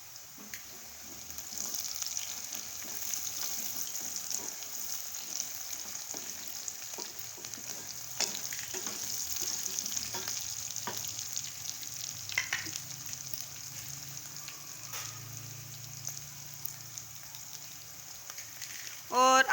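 Green chili stirred into whole cumin seeds frying in oil in a pan for keema with shimla mirch, giving a steady, close crackling sizzle that runs throughout with small stirring scrapes.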